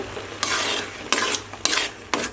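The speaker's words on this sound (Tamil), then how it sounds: "இந்த மாதிரி அடிக்கடி கிண்டி விடுங்க" Tomato jam bubbling in a pan as a spoon stirs it, with four distinct scraping strokes over a soft constant simmer, close up and with no voices.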